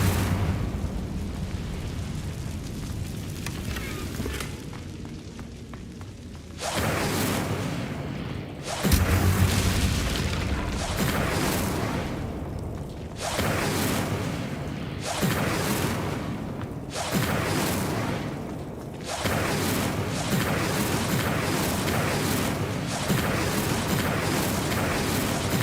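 Incendio fire spell in the Hogwarts Legacy video game: a run of loud, booming fiery bursts with whooshing blasts, repeating every couple of seconds over dense, steady game noise.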